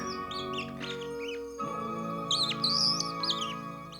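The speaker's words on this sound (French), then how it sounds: "Dès que la maman des 3 petits ours entendit le chant de l'oiseau Vémus" A golden cartoon bird sings bright chirping trills in short, clear phrases over a sustained musical backdrop, up close and prominent.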